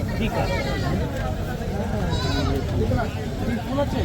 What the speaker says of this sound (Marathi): चार ते पाच महिन्याचे बोकडांचे पिल्ले पण आलेले आहेत